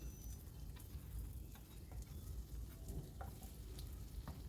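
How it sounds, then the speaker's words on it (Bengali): Flatbread fries in a pan until both sides turn reddish, a quiet, close, even sizzle with occasional light clicks and taps and no talking. "দুটো পিঠ একটু লাল লাল করে ভেজে নিতে হবে"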